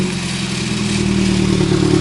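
A car engine idles roughly just after a cold start, loud and close, with a steady mechanical drone and fast ticking pulse that swells slightly over two seconds.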